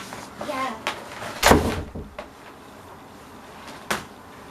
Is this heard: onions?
no